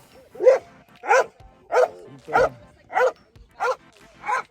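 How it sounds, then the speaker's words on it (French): A police dog in training gives about eight sharp barks at an even rhythm, close and loud, with short silences between them. "Regardez le chien."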